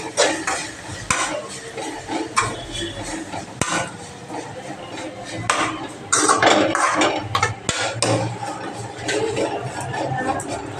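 Sugar being stirred into a mixture in a pan, with repeated scraping and clinking of a spoon against the pan over a soft sizzle, close and fairly loud.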